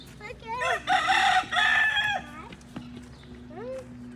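Chickens on a small farm: a rooster crows loudly and close through the first half, followed by scattered clucks and a fainter crow, with brief voices in the background.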